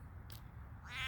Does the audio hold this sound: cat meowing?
yes